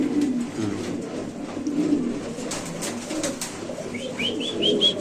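Domestic pigeons cooing close by, a male and female pair kept for sale, with soft repeated coos over a low room murmur and a few brief chirps near the end.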